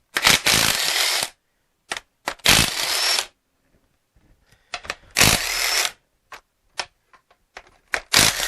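Power tool removing 18mm bolts from a 2008 Buick Enclave: several loud bursts of whirring impact rattling, each lasting about a second, separated by silences and scattered sharp metallic clicks and clinks close by.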